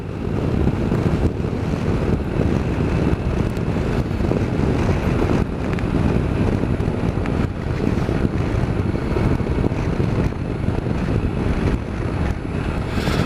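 Triumph Explorer motorcycle riding along back country lanes, a loud continuous rush of wind buffeting the microphone over a steady low engine drone, with no talk.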